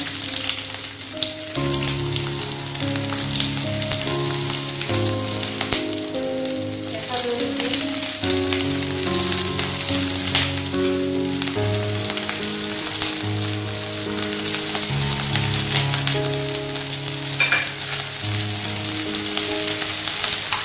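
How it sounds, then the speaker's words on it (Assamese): Chopped onions hitting hot oil in a heated wok while making pork with black sesame, giving a loud, steady crackling sizzle that fills the whole stretch, with music playing underneath. "এতিয়া কেৰাহী গৰম হ'ল আৰু আমি অলপমান তেল দিওঁ তেল দিয়াৰ পিছত আমি কাটি থোৱা পিয়াজ"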